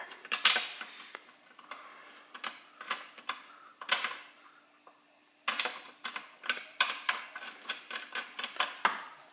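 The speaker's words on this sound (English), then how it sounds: "threading that bolt" A bolt threaded by hand onto the bracket of a Toro TimeMaster 30-inch mower, heard as close, crisp ratcheting clicks in quick irregular bursts with short pauses between runs.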